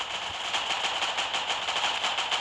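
Rapid, continuous automatic gunfire in the video game World War Polygon, a steady rattling stream of shots at fairly close range filling the whole stretch without talk.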